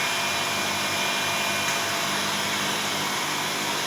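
An electric blower runs on power from a 10 kW 48 VDC hybrid rackmount inverter. It makes a loud, steady, even whoosh through the whole stretch, with no talk.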